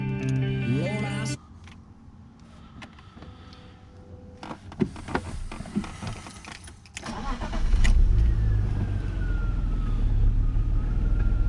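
Under the hood of a car with 284,510 km on it and a petrol-to-LPG system, clicks and mechanical noises give way to the engine starting and then running in a steady, close hum.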